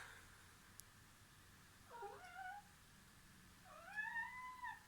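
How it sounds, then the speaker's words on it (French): A house cat meows twice indoors, a short call followed by a longer, louder one, clear against a quiet background. "Oui, bonjour chat."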